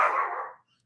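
A guard dog gives one short, loud bark nearby, indoors or just outside, and it fades quickly into silence.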